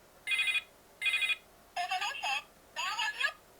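Telephone ringing with electronic ringtone bursts: two short identical rings, then two longer warbling rings, close and clear with gaps of quiet between.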